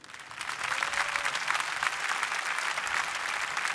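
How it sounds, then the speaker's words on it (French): Sustained applause from a large audience honouring the presidents of France and Kenya at a business event, a dense, steady wash of clapping that holds evenly throughout with no voices over it. "que je vous demande d'applaudir"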